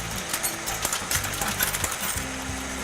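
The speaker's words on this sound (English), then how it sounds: "when we hit it with that press, you'll get a really nice impression into the paper" A letterpress printing press works cotton paper in a rhythmic series of close mechanical clanks and thumps, repeating every half second or so with light metallic clatter and no talking.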